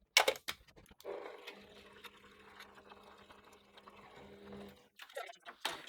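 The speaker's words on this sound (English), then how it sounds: "And we're going to take it to the sewing machine." A sewing machine fitted with a quarter-inch foot runs steadily for several seconds, stitching binding on a small mixed-media quilt, with light clicks and handling noises before and after the run.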